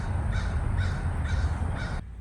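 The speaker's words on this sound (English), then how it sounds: "the birds are out" Crows caw outdoors on a spring day, giving four harsh calls in a steady rhythm at moderate distance before they stop abruptly.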